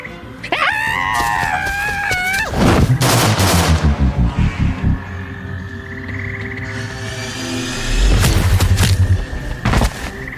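Gunfire rings out in a tense scene, loud sharp bursts and booms broken up by shrill, warbling cries and a rattling run of rapid shots, with no talk.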